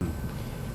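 Interior of an Acela Express high-speed train in motion, heard from a business class seat, a steady loud low rumble with faint rail clatter throughout.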